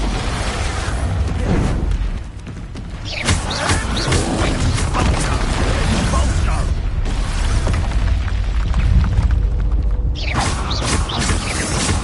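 Repeated Expulso spell explosions in the Hogwarts Legacy video game, loud booming blasts with mechanical clatter through a dense, continuous battle mix, with voices in the fray.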